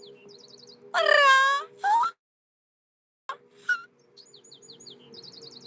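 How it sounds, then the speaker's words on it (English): Small birds chirping outdoors in quick repeated tweets, with a few louder drawn-out calls standing out near the listener over a quiet background. "Those are real life birds."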